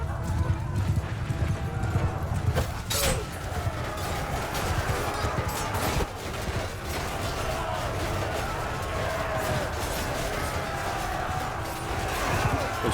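Battle in the game Mount & Blade II Bannerlord, with horses galloping in steady dense clip-clop, occasional whinnies, clashing and crashes through a continuous loud battlefield mix and faint voices beneath.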